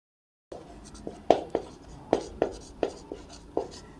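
A pen writes out class 12 maths notes, scratching in short distinct strokes with sharp taps, close and clear after a brief silence at the start.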